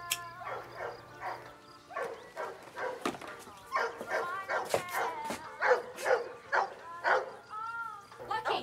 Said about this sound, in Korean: 마당에서 짖고 있는 개가 무섭다는 이유로 떠나지 않았고